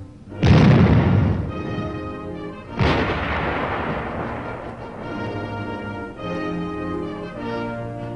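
US Army armor support weapon firing direct fire, two loud booming blasts about two seconds apart, each with a long rumbling decay trailing off, followed by a lingering tonal hum.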